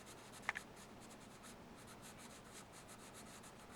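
Pencil shading lightly across paper makes a soft continuous scratchy rubbing in steady back-and-forth strokes, close and quiet, with a couple of faint clicks.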